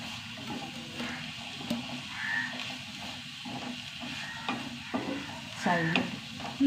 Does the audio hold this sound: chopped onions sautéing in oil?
yes